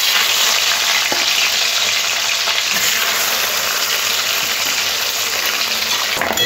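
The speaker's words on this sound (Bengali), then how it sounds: "যে বাকি যে মাছটা আছে একই প্রসেসিংয়ে ভেজে নিতে হবে।" Pieces of katla fish fry in hot oil in a pan with a loud, steady sizzle that runs without a break. A few faint clinks sound in the background, and no one talks.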